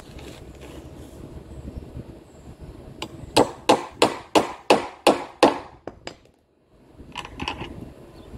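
Eye bolts are being fixed into a wooden board for a cattle panel greenhouse. A run of about seven loud, evenly spaced knocks rings out close by, then goes quiet, and a few fainter knocks and rustling follow.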